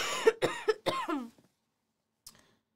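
A quick run of four or five harsh coughs close up, then silence and one faint short cough afterward.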